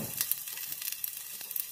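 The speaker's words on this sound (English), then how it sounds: "You can just saute this in this ghee for about a minute or so" Vegetables saute in hot ghee for a baby's mixed vegetable khichdi, giving a soft, steady crackling sizzle with light stirring, fairly quiet and close, with no talk.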